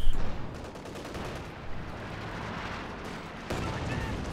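Artillery explosive barrage from a veteran pack howitzer in the real-time strategy game Company of Heroes 2, a run of booming blasts and gunfire cracks with a sharp hit near the start and another at three and a half seconds, with faint voices.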